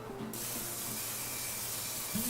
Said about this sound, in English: And we'll just spray it.